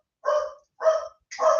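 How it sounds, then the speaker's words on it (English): Three dog barks ring out close and loud in a home kitchen in even succession, each a short bright bark with nothing else around them. "I can hear the dogs."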